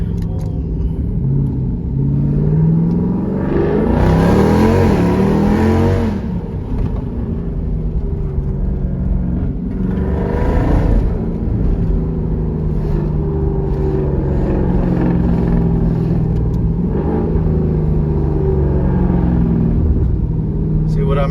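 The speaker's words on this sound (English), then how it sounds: "I'm gonna do a paddle shifter pull" A Jeep Grand Cherokee SRT's engine roars loudly through a paddle shifter pull, with surging revs that rise and drop across several gear changes, heard from inside the cabin.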